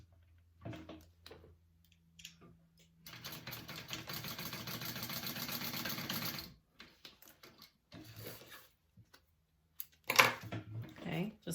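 A sewing machine stitches a wristlet onto a bag through a grommet in one steady mechanical run of about three seconds. It is close, followed by handling noises and a brief sharp clack.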